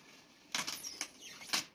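A paper cutter's thick blade with a small bevel slicing through thick plastic, giving three or four short, crisp crunching snaps at an irregular pace, close and fairly quiet, with no talking.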